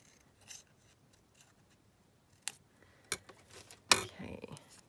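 Scissors trimming scraps of fabric, with a few short, separate snips and crisp cuts spaced out over a quiet background, the last ones loudest.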